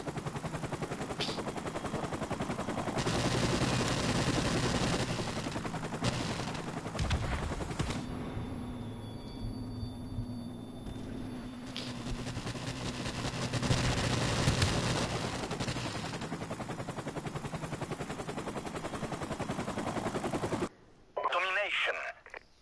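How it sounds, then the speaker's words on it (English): Rapid automatic AK rifle fire in a Call of Duty: Modern Warfare Remastered Domination match, dense bursts with game effects and chatter from players talking throughout. "I'm actually using. I'm using a friggin' AK and I'm doing this bad."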